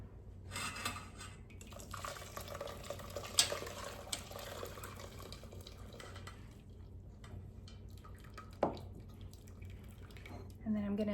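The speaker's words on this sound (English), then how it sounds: "And then I let it drain a little bit." Turkey broth trickles and drips steadily through a strainer with occasional clinks of cookware, a quiet kitchen draining sound with a louder clatter near the end.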